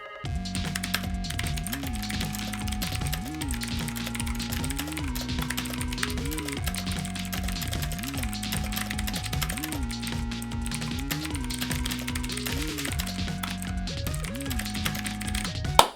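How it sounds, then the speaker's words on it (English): Steady, fast typing on a custom mechanical keyboard, a continuous patter of keystrokes heard over looping background music throughout. "type the paragraph, let's see how fast I type"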